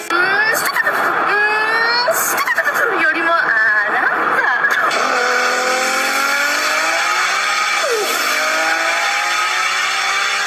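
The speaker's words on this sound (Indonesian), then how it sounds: "Ini adalah Nissan GT-R R32. Suara knalpot mobil klasik ini tuh kayak gini coy." A Nissan GT-R R32 classic car lets out loud exhaust revs that climb and fall in repeated bursts, then settles into a sustained high engine drone, with a voice talking over it.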